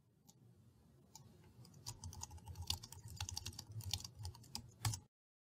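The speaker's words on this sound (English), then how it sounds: "First, we'll type in some new text, such as the sentence, "Look what I can do."" Someone types on a computer keyboard, a quiet, close run of irregular key clicks lasting several seconds with no voices.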